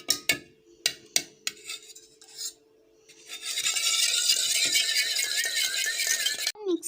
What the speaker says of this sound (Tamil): ஒரு 4 முட்டை உடச்சி ஊற்றிருக்கோம். அடுத்து நல்லா மிக்ஸ் பண்ணிக்கலாம்.